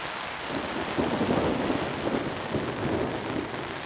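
Steady heavy rain pours down with low rumbling thunder rolling underneath during a lightning storm in the White Mountains of Arizona, a continuous stormy wash with no voices.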